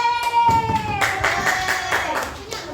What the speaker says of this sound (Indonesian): Tepuk tangan buat Mas Maura